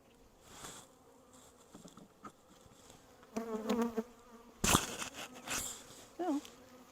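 Honey bees buzz steadily from an open hive being inspected by a beginner beekeeper, a close, continuous insect drone with a few louder passes and brief handling knocks.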